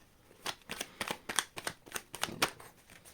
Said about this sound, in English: Shuffle, baby.